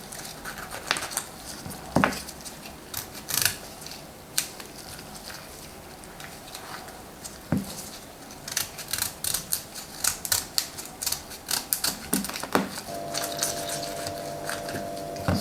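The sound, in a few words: peeling artichoke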